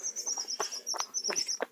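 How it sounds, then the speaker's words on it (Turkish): Birds chirp and tweet outdoors in short bursts over a steady high-pitched trill, moderately close and clear, with no talking. "Kuş sesleri çok güzel."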